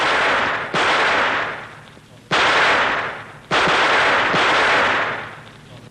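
Rifle gunfire during military cadets' weekly weapon training, three or four loud sharp reports each trailing off in a long rolling echo, with noisy old recording hiss throughout.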